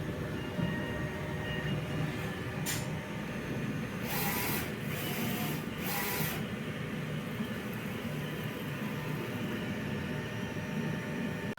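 A DTF printer running a nozzle test: a steady mechanical hum with a brief click followed by a few short bursts of print-head movement, close and without talk.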